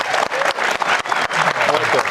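A live audience claps loudly and steadily for about two seconds, a dense burst of applause from a crowd gathered to cheer for a contestant's shoe choice.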